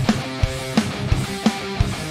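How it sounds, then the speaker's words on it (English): Programmed drum pattern with a kick and snare groove, punctuated by bright cymbal crashes at regular intervals about every 0.7 seconds, clean and fairly loud with no voices. "you always want a cymbal hit. It just accentuates the start of the riff"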